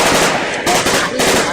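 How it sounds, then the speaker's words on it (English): Rapid gunshots from a Hollywood film scene, a loud, dense volley of automatic fire that runs continuously with brief dips between bursts. "Rip off some shots."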